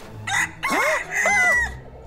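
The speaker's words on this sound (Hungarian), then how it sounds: "ez az ébredés kakasa! Hallgass el!" A rooster in a Nexo Knights cartoon crows loudly and close, three rising and falling calls in quick succession that sound cartoonish, with no speech over them.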